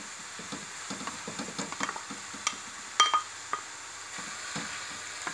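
Spoon stirring a grated zucchini filling mixture in a bowl for small stuffed msemmen, giving soft wet squishing and scraping taps in an irregular rhythm, close and fairly quiet, with a few sharper clinks.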